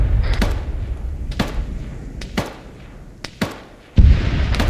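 Distant gunshots ring out in a snowy outdoor setting, several sharp reports spaced roughly a second apart, echoing faintly, with a heavier thump near the end.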